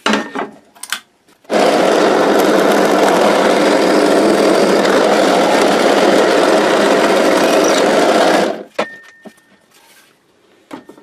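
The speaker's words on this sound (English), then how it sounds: "we're just going to drill it out and then put a plug into it" A drill press bores out a hole in an Epiphone SG guitar body, a steady loud whirring drone lasting about seven seconds, with brief clatter before and after.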